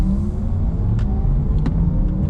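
A 2020 Porsche Taycan 4S electric car in sport sound mode gives a steady synthetic low hum and whir, continuous and fairly loud, with a few brief faint high chirps, futuristic rather than a throaty exhaust.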